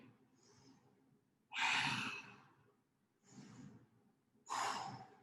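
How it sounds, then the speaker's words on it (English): Slow, deep belly breaths taken while holding a plank, two loud rushing inhales alternating with softer exhales, close to the microphone in a quiet room. "Big inhales through your belly."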